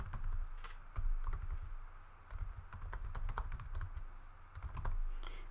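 Quick, irregular clicking of keys as a web address is typed on a computer keyboard, close and fairly quiet, coming in short bursts with no voice.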